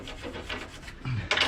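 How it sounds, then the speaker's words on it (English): Short bursts of wire-brush scrubbing on a rusty rear brake caliper bracket of a 2005 Cadillac STS, a steady rasping rub that ends in a brighter, harder stroke. "we're going to take a wire brush"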